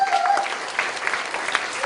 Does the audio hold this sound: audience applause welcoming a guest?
yes